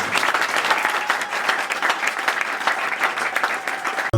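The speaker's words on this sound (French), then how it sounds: "Encore un méga applaudissement pour le secrétaire général." A crowd at a political gathering in Kolwezi gives a secretary general a round of applause, with dense steady clapping and some cheering that stay loud and continuous until a sudden cut at the end.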